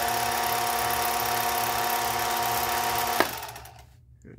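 A Singer 431G sewing machine with a low-voltage motor, cover open, sewing denim in straight-stitch mode, runs with a steady whirring drone that abruptly stops near the end, leaving a faint fading hum.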